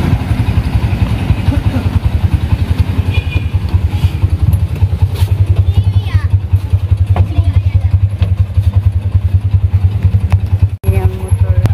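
A motorcycle engine chugs loudly and close, a steady rapid idle pulse that continues throughout, with faint voices underneath.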